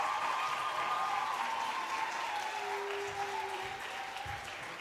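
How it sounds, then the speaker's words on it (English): Applause from the audience at a school conference, a continuous wash of clapping at a moderate level that holds steady for the whole stretch and fades slightly toward the end. "so a big round of applause for that"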